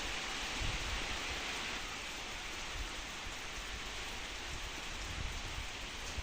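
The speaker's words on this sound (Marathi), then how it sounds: "खूप जोराचा पाऊस सुरू झाला आहे." Heavy rain pours down steadily and loudly across the whole stretch, a dense, even hiss of drops hitting surfaces around farm fields during monsoon, with no voices.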